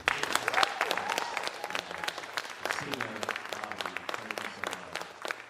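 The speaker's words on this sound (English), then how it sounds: "Now, if we could please give a round of applause for all of those fantastic students." An audience at a spoken word performance claps for a group of students, a lively round of applause with distinct close claps and a few murmuring voices, tapering off toward the end.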